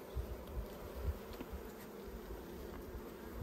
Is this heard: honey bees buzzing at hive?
yes